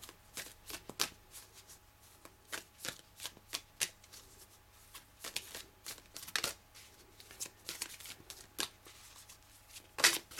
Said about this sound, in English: A few more shuffles, and then if the cards don't come, I will pick them.